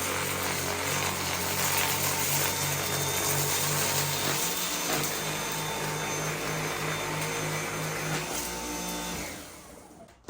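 A eufy E20 cordless stick vacuum runs at regular speed over carpet, giving a steady loud motor whine with a low hum that shifts pitch briefly partway through and cuts off at the end.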